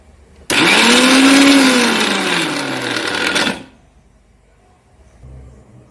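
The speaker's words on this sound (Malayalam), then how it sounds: "ഇത് നല്ല വൃത്തിയായിട്ട് അരച്ചെടുക്കാം." Electric mixer grinder whirring loudly for about three seconds as it grinds coconut, shallots and spices into a paste for a raw mango coconut curry, its whine sliding in pitch, then cutting off to near silence.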